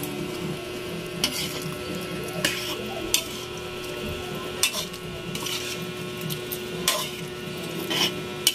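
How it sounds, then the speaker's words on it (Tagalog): Kaldereta ingredients stirred in a cooking pot, sharp scattered clinks and scrapes of a utensil against metal over a low, steady background hum and faint simmering. "kailangan lang haluin yung mga ingredients na yan"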